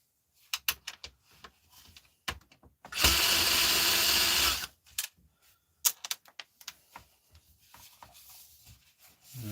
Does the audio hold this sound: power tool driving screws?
yes